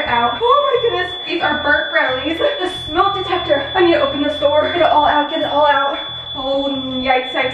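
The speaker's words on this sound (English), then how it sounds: "Oh my goodness, I have set off the alarm." A smoke detector alarm set off by burnt brownies in a home kitchen sounds as a steady high-pitched tone running throughout, heard beneath continuous loud talking.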